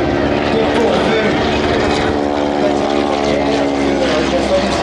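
Loud, steady multi-engine propeller drone of a Junkers Ju 52 landing just short of the runway threshold, a dense close roar with a constant harmonic hum throughout.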